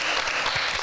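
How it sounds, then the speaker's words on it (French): Audience applause at a French quiz game show, a dense, steady wash of many hands clapping together, loud and close, filling the whole brief moment with no voices on top. "Applaudissez, mesdames"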